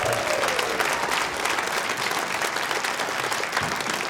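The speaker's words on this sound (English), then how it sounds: "let's get an applause to go into this song" Audience applause fills a radio-show concert hall ahead of a song by a folk duo, a steady broadband roar of many hands clapping throughout, loud and close, without speech.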